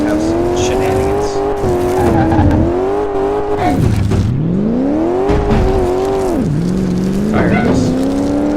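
Video game engine sound of a Jeep Willys military edition in Car Mechanic Simulator 2018, a loud continuous engine drone rising and falling in pitch as the jeep revs, with brief dips and surges, under occasional talking.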